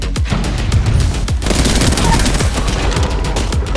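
Dense, loud rapid gunfire from enemies in a battle royale shooter game, firing in continuous bursts and overlapping volleys throughout, with no pause.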